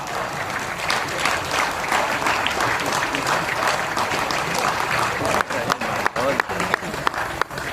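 Audience applause at a Hindi humorous poetry or comedy event, a dense sustained clapping wash that fills the room and breaks into scattered claps near the end.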